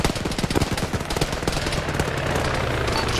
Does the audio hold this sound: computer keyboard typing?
no